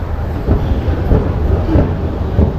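A Shanghai Metro Line 11 train rumbling loudly nearby, a heavy low roar with a few rhythmic thumping surges as it moves along the track.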